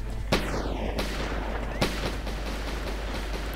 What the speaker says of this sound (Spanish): Me están disparando de varios lados.